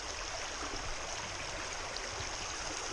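A stream flows steadily near a mountain bothy, a constant close rushing and burbling of water with no other sounds.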